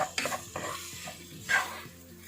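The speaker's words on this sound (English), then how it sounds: "Now we have to fry the onions till they are golden brown." Onions frying in a pan for North Indian chole, sizzling steadily while a utensil stirs and scrapes, with louder bursts of stirring near the start and middle; no talking.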